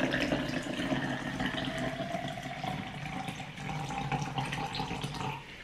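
Water pours steadily from a tap into a container for mixing a powdered energy drink, a continuous broadband splashing rush lasting the whole stretch at fairly close range, with no talk.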